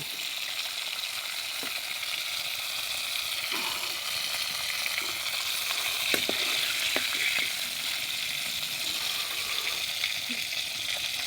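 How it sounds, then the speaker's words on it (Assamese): Onions frying in a pan for an Assamese fish and spinach dish give a steady, close sizzle with small crackles and stirring clicks throughout, with no talk. "এতিয়া পিঁয়াজ আৰু এইখিনি ভাজিব লাগিব।"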